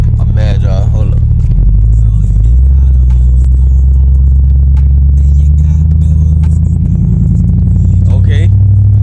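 A Chevrolet Cutlass with an LS engine swap is driven, its deep throbbing engine rumble rising and falling in pitch close by while people talk over it.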